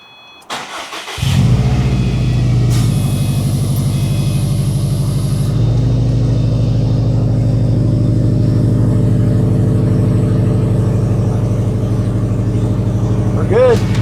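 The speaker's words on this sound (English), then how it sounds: "it was finally time to start the car" A Subaru EJ boxer engine starts after a timing belt change, cranking briefly before catching and settling into a steady, loud, close idle that holds through to the end.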